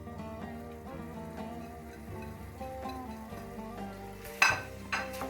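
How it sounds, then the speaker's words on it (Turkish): Sliced onion hits hot sunflower oil in a pan, a sizzle rising under steady background music with a sharper crackling burst near the end. "Bir orta boy soğan katıyoruz."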